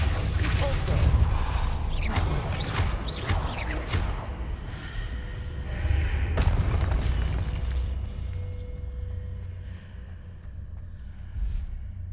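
Stone archway mechanisms shift after spells hit marks in Hogwarts Legacy: loud booms and sharp bursts give way to a long, rumbling, grinding movement that slowly fades toward the end.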